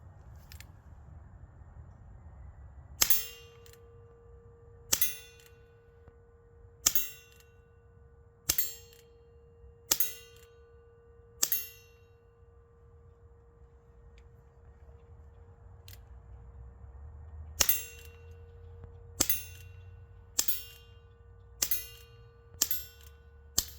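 Colt 1873 revolvers firing at steel targets, each shot a crisp bang followed by a bright metallic ring from the steel, in two strings of evenly spaced shots with a short pause between, outdoors.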